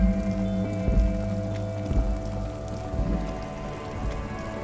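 Rain in the video game Disco Elysium patters steadily on surfaces, a soft continuous shower with a low rumbling bed and periodic dull thumps beneath it.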